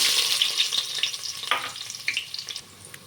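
Chopped onions hitting hot oil with cumin seeds in a pan, a bright close sizzle that fades gradually with intermittent stirring clatters and pops, no voices.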